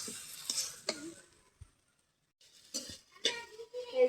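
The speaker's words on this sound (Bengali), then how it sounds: "ভাজিটা কিন্তু অর্ধেক হয়ে গেছে, আরো একটু হবো। সুন্দর করে ভাজা নিমু।" Beef brain fries in a pan while a utensil stirs it, giving a few scraping clinks and light sizzle, then a short silent pause before more stirring and clatter resumes.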